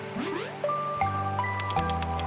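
Rain falls in a cartoonish video game as bright, tonal plinks and drips. Short sliding tones sit over a low steady hum, and several distinct drop sounds are spaced through the passage.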